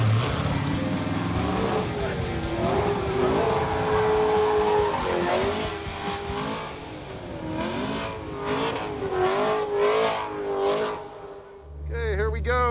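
An LS-powered muscle truck races, its engine loud and close, the pitch climbing and dipping repeatedly through gear changes with bursts of tire noise, before cutting off abruptly near the end.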